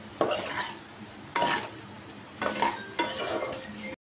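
Fried potato pieces tossed with chili powder in a pan, with four separate bursts of scraping, stirring and light clinking from a spoon against metal, close and distinct between short pauses.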